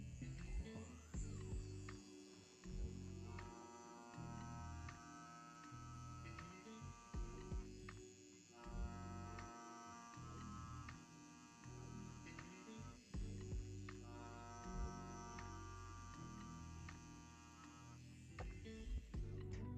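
A Yilong F5 tattoo machine runs during a large round liner test, a close electric buzz that switches on and off in repeated bursts of several seconds with short pauses between.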